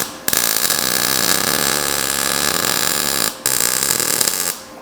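Continuous harsh crackling buzz of welding as a bead is run in a C pattern, steady and loud for about three seconds, cutting off briefly, then resuming; no talking.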